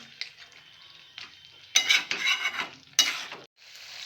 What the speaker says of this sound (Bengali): এখন এটাকে আমি একদম খুব ভালো করে কষাবো 10 থেকে 15 মিনিট, একদম তেল বের না হওয়া পর্যন্ত।